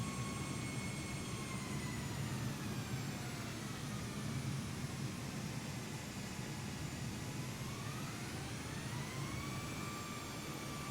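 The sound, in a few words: Airbus A320neo engines on takeoff, Microsoft Flight Simulator game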